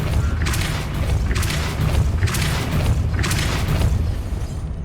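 A Depulso spell shoves a mechanism in the Hogwarts Legacy video game, giving four loud, evenly spaced creaking, grinding surges over a steady low rumble.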